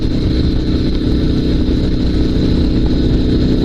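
Dnepr sidecar motorcycle engine running steadily at a loud, close idle, a constant low rumble with a rough mechanical throb and no pauses.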